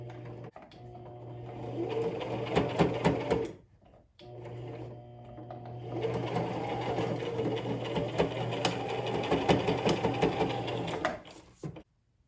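A sewing machine runs a final reverse stitch along a fabric face mask, a steady rapid mechanical chatter in two bursts separated by a short pause, close and clear.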